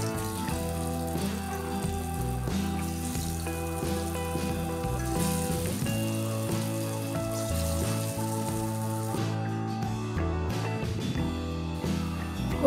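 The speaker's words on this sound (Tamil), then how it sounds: "இப்போது ஷாலோ ஃப்ரை பண்ணிடலாம்." Raw banana chops shallow frying in a little oil in a nonstick pan give a steady, close sizzle that continues evenly alongside background music.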